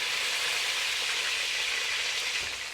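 Chicken chop frying in a pan while a spatula presses it down, a loud, continuous close sizzle that holds steady throughout.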